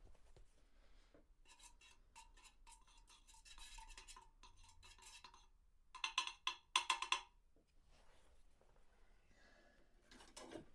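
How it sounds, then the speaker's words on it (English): A mixed drink swizzled in a glass, bursts of rapid rattling clinks of ice and a metal swizzle stick, quiet at first then a sharper, louder flurry of clatter, close and unaccompanied by speech. "Give it a swizzle."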